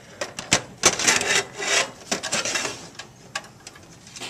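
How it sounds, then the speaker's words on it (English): Optical drive sliding into the front bay of a PC case during assembly, giving a series of scraping, rubbing metal-on-metal sounds with a few sharper knocks, close and moderately loud. "Now we have our optical drive. And you always want to slide these in from the front."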